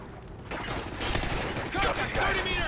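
Gunfire in the Call of Duty Ghosts video game, a sudden dense fusillade of rapid shots with whizzing, lasting a couple of seconds at close range.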